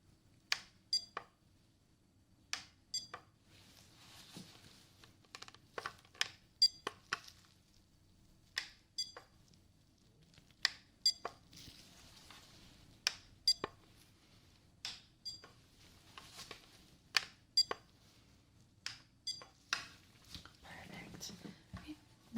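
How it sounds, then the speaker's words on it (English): Beeps for a hearing test during a simulated medical exam, a long run of short, sharp tones at irregular intervals, some in quick pairs, over faint soft whispering and quiet handling sounds. "I'm going to be making a beep sound, and I want you to tell me what side you hear the beep."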